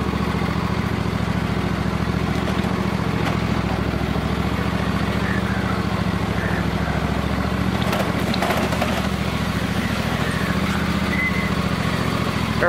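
A garden tractor's engine runs at low throttle while the tractor drives along, giving a constant close drone with a steady low hum and a faint rattle. It holds at the same level throughout, with no talking.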